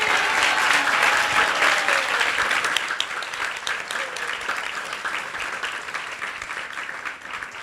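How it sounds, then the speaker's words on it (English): A room full of people at a Vaishnava Vyasa Puja celebration gives a warm round of applause for the cooking team, loud at first and then easing off gradually as the clapping thins. "I wanted to give a round of applause to her and her team"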